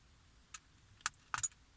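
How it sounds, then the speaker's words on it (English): Buttons on a car DVR camera give a few small, sharp clicks, one single then a quick close pair, quiet and close against near silence. "I'm clicking the wrong button"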